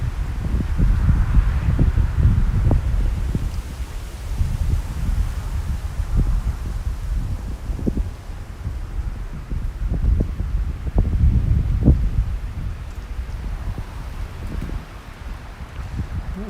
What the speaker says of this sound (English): Oh, more wind, more wind.